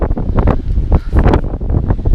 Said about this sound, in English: I've never felt wind so strong. I can't hold this camera straight.